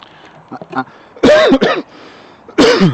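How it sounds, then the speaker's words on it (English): Two harsh throat-clearing coughs burst out close by, separated by a quiet pause, with faint murmuring before the first. "smoker's cough"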